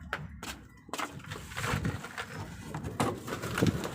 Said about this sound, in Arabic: هنا الحمام